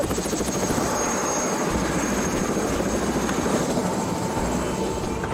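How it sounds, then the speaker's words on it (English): A helicopter's rotor chops rapidly and steadily overhead, a loud, continuous thudding drone with a thin whine above it. "we took a helicopter all the way down there"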